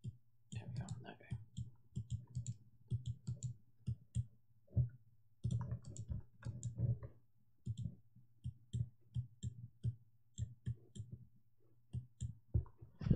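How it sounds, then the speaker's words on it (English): Computer mouse clicks picked up by a nearby desk microphone during an animation stream, faint, quick clicks in irregular bursts beneath soft, quiet speech. "Having my microphone on this side is picking up a lot of my mouse clicks and stuff."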